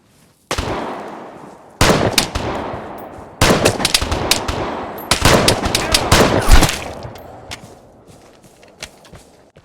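Gunfire in the video game Vigor: several loud bursts of rapid shots in separate volleys, sharp and close, with faint movement sounds between them and a fading tail at the end.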